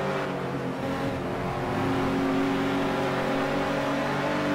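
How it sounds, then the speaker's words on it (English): A 1985 BMW and a Rover racing in a New Zealand touring car championship round at Pukekohe. Engines roar continuously and fairly loudly, holding steady revs with a slight build through the stretch. "Much longer gears in Fredriksson's BMW compared to Yves' Rover"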